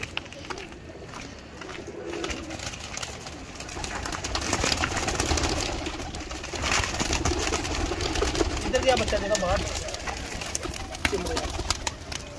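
Breeder pigeons coo repeatedly in soft, throaty calls, close by, over steady outdoor background noise and occasional wing and movement sounds.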